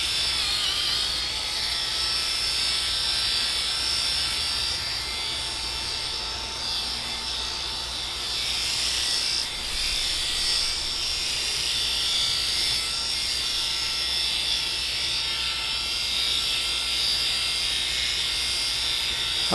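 GROOMIE BaldiePro cordless electric head shaver running against a scalp, a steady high buzzing whine with small fluctuations as it passes over the head, close and continuous for the whole stretch.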